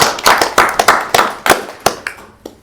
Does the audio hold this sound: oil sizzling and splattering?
no